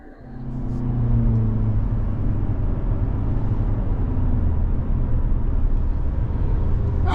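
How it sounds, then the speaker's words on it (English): A 2024 Toyota Corolla Cross XLE all-wheel-drive subcompact SUV pulls away and cruises on the road, engine rising as it accelerates, then a steady cabin rumble of tyres and wind holding throughout. "we're on the road in this 24 Corolla Cross XLE all-wheel drive"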